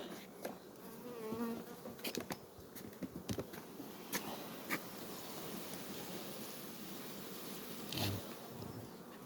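Honey bees hum steadily around an open hive full of honey during a linden and wildflower nectar flow, a continuous buzz with single insects droning close past now and then.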